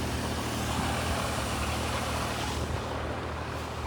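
A VST tractor runs in first gear while spraying a pomegranate orchard, its engine a steady, loud, continuous rumble close by with no talk.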